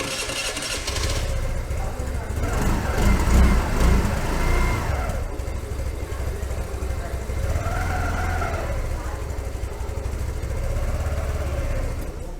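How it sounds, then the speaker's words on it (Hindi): A TVS Jupiter 110 scooter's small engine runs close up, rising in two short revs over a steady exhaust hum and then settling back to idle, with a person talking over part of it. "गाड़ी का जो एग्जॉस्ट साउंड है वो आपको कुछ इस तरह का मिलेगा"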